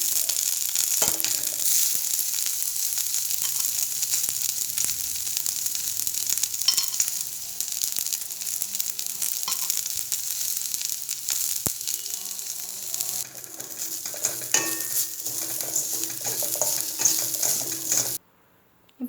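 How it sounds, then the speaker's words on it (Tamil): Mint leaves and coconut sautéing in a pan for mint chutney, with a continuous hissing sizzle broken by frequent scraping stirs and taps, close and fairly loud before cutting out near the end. "இப்போ புதினா நல்லா வதங்கிடுச்சு. இப்போ இதில் நம்ம தேங்காய் ஆட் பண்ணிக்கலாம்."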